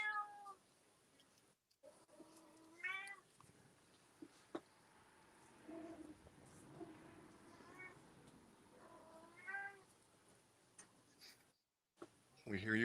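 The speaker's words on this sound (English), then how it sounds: "We hear your kitty." A house cat meows repeatedly in the background of a collectibles auction and racing stream, several drawn-out calls rising and falling over quiet room tone, with people talking at times.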